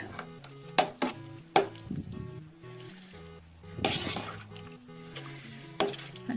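Meat rice is stirred in a pot in a home kitchen: sparse metallic clinks and scrapes of a spoon against the pot, with soft shuffling of rice between strikes, fairly quiet and close.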